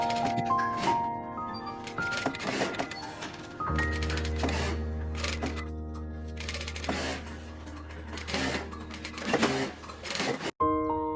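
A sewing machine stitches a facing strip onto the front panel of a handmade top, sewing along a marked line. Short runs of close mechanical whirring alternate with clicks and pauses, and there is no speech.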